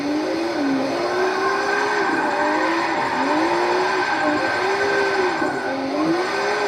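Simulated car engine from an Xbox One racing game, with the 240 being driven: a steady droning engine tone that swells and dips in repeated rev cycles, loud and continuous throughout, with a tire-screech-like edge at times.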